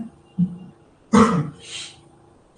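A single throat clearing followed by a short cough and a softer trailing cough, close by, with brief quiet between.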